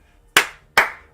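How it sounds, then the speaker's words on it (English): Two sharp hand claps, evenly spaced and close, ring out crisply against near silence. "We're going to give that a big clap"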